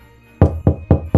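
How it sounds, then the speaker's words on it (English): Four firm knocks on a door in an even, steady rhythm, close and loud, with nothing else behind them. "Suddenly, there's a knock at the door."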